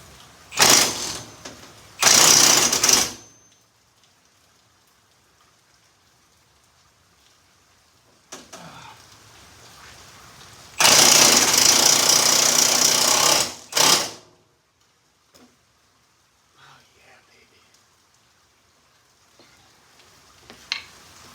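A cordless impact wrench hammering on the upper control arm bolts of a Toyota 4Runner, loud close bursts of rattling impacts, two short ones, then a weaker one and a longer run, separated by quiet pauses.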